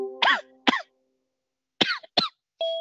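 A person coughs in several short, sharp bursts, two close together, then a pause and two more, ending in a throat-clearing sound, close up against a quiet background.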